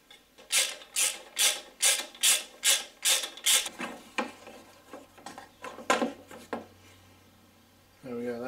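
A bolt being wound into the belt tensioner of a VW VR6 engine, a run of about eight even ratchet clicks, then a few slower, scattered turns, close and loud.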